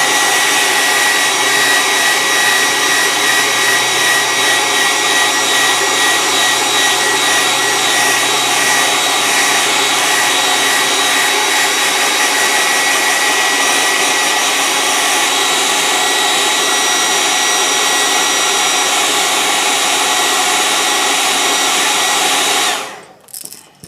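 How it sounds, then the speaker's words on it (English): A hair dryer blows loudly and steadily up close for a long stretch, drying a shad pattern fishing lure, with a constant whooshing whine, then switches off at the end. "Let's dry this just a little bit with a hair dryer."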